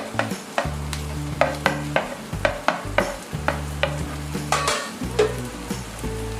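Vegetables are stir-fried in a pan for simple veg fried rice: a steady sizzle runs under rhythmic, close spatula strokes scraping and tossing about once every half second, with no talking.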